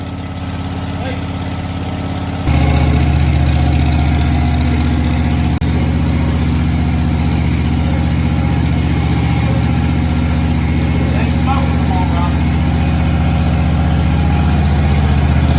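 A lawnmower engine fitted in a Bobcat skid steer fires up and runs, shifting from a quieter rumble to a loud, steady idling drone that holds close and constant, with voices present.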